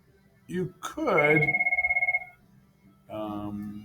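A telephone rings with an incoming call, a rapid trilling ring burst that sits between stretches of a person talking nearby.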